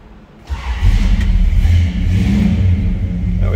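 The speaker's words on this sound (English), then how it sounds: "Let's go ahead and fire it up." A 1967 Dodge Coronet 440 hardtop cranks and fires up, its engine catching with a deep rumble and settling into a loud, steady idle close by.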